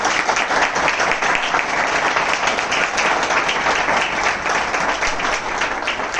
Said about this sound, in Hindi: जोरदार ताली बजा दीजिए इनके लिए